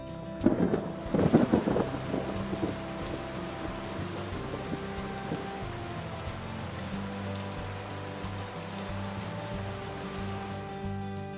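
Rain patters steadily on a surface while low rumbles of thunder roll underneath, with a brief louder burst near the start, in a children's cartoon picnic game.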